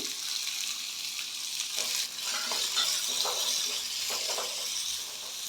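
Chopped onions hit hot oil in a pan for a kachori filling, setting off a steady, close sizzle and hiss, with a louder burst near the start and soft stirring scrapes throughout.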